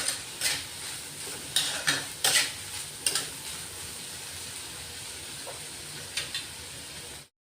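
Sweet corn kernels scraped and stirred in a hot pan, with a series of sharp spatula scrapes over a steady low sizzle, then quieter frying.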